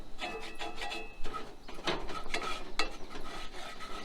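A utensil stirs and scrapes flour roux around a camping pan in quick, uneven strokes, with gritty rasping scrapes and light metallic clinks, close and with no talking.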